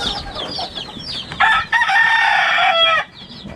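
Chickens cluck and chatter in a flooded coop, and a rooster lets out one loud, close crow lasting over a second amid the surrounding hen calls.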